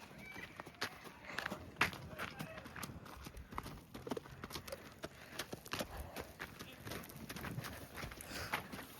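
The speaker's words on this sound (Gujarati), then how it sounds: "આ ઋતુભાઈ વાળો ઘોડો પણ આવી ગયો છે." Hooves clip-clop in a quick, uneven rhythm on hard ground, with people talking over it and a steady outdoor hiss behind.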